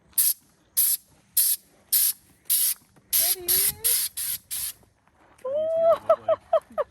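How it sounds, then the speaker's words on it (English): Short bursts of hissing spray as a bus is spray painted turquoise with Raptor coating repeat in a steady rhythm, about a dozen in all, with people talking briefly in the middle and at the end. "We're ready to start spraying."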